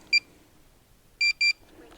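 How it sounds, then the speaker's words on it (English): A Potensic Atom drone returning to home gives out electronic beeps: one short beep, a pause, then two quick beeps close together, over faint background noise. "I did have the beeping turned off, but it turned back on again."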